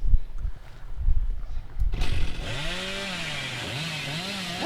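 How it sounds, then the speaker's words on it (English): The Hillbilly's chainsaw in Dead by Daylight revs up after a short stretch of scuffling, then holds a steady, loud, buzzing drone with rising and falling pitch sweeps. No one speaks. "I just can't use my chainsaw"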